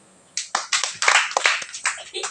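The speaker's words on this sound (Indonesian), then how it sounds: "Kita tepuk tangan lagi." A church congregation at a worship service claps their hands together, loud and close, in uneven bursts of overlapping claps that build into a lively, continuous patter.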